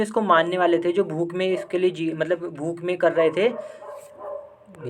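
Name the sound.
dogs barking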